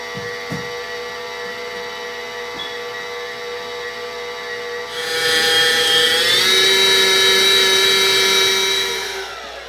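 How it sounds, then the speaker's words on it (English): An electric mixer whirs, blending egg yolks into batter for chiles rellenos: a faint motor hum first, then a louder high whine that rises in pitch and holds steady before cutting off, with no talk. "now we're gonna go ahead and add the yolks and start blending it, mixing it"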